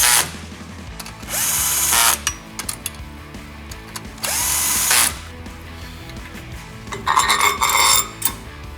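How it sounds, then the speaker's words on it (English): A power tool driving the screws that hold a clutch pressure plate to the movable sheave during a Dynojet high-engagement clutch spring install: three loud, close whirring bursts of about a second each, separated by quieter clicking and handling sounds. "now we're just going to tighten the screws back up that retain the pressure plate to the movable sheave"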